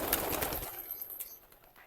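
Lovebirds chirp in scattered, faint bursts in an aviary, with a brief rustle of wings and background noise at the start.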